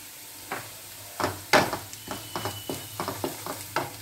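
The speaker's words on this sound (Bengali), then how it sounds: "এবার আমার পেঁয়াজ আর রসুনটা হালকা করে ভাজা হয়ে গেছে" Onion and garlic sizzling in a pan, with a steady low hiss broken by repeated scraping stirs of a utensil, close and fairly quiet.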